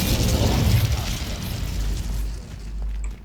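A fire spell cast in Hogwarts Legacy, a loud whooshing burst with a low rumble that swells at the start and stays steady for a few seconds, no voice over it.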